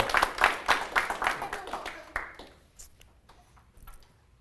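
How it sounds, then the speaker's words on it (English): An audience gives a burst of applause at a live community event, rhythmic clapping for about two seconds before it fades into quieter scattered sounds. "big round of applause"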